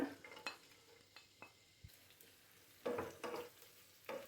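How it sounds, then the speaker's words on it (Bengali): Chopped onions frying in about half a cup of white oil, a soft sizzle broken by intermittent scrapes and clinks of a spatula stirring in the pan, quiet and close. "সাদা তেল দিয়ে দিলাম আধা কাপের মতো, পেঁয়াজ কুচি দিয়ে দিলাম 4-5টা"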